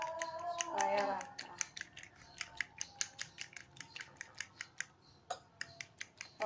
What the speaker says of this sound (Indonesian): sambil terus kocok ya telurnya